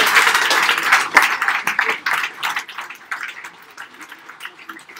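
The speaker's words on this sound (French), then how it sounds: "D'abord, quelques applaudissements, s'il vous plaît." A prize-ceremony audience at the Prix Filigranes 2020 evening applauds in a dense burst of clapping that is loud at first and then gradually thins and fades, with no talk over it.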